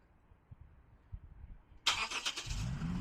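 A Lexus IS 350 fires up by remote start after quiet moments, a sharp cranking burst settling into a steady, low idle close by, with no talking.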